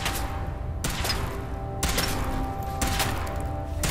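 A weapon fires in a video game, with three heavy, loud booming bursts in quick succession, each followed by a dense rumbling tail.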